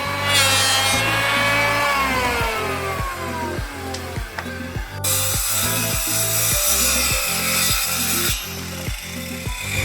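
Continuous rhythmic sawing through wood, steady back-and-forth strokes with a harsh rasping edge, loud and close throughout.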